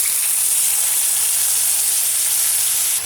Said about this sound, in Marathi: आता यामध्ये मी अगदी थोडंसं असं पाणी टाकत आहे, 2 ते 3 चमचे, आणि झाकण ठेवून बटाट्याला मी एक छान वाफ देणार आहे